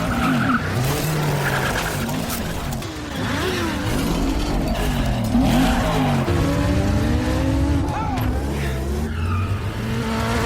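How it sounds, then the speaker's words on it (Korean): A movie car chase with BMWs: tires squeal and skid repeatedly over roaring, revving engines, loud and continuous, with crashes and chaotic engine sweeps mixed in. "이 장면은 톰 크루즈가 직접 운전한 것으로도 유명한데요"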